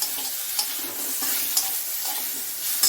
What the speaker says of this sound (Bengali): আর এই দেখো কড়াইতে সেই পাট শাক রয়েছে অল্প একটু, সেটাই যে গরম করছি।